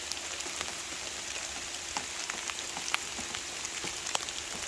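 Steady rain patters down on an outdoor trail during an Axial RC crawler run, a faint, even hiss of drops with scattered sharper taps throughout and no voices.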